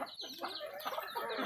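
Labuyo junglefowl chickens cluck faintly in brief, scattered calls, a bit distant and quiet.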